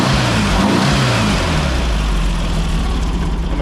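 A car engine on a cold start runs loud and close with a lumpy, slightly uneven idle, rising into revs and settling back, a steady rumbling drone throughout with no talking.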